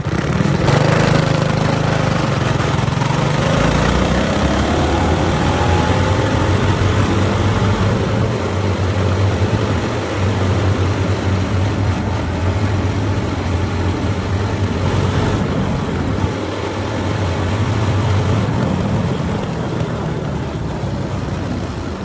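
A budget mini bike's small engine, running after its air filter has been tightened, drones loud and close for a long steady stretch with slight rises and dips in pitch as the revs change.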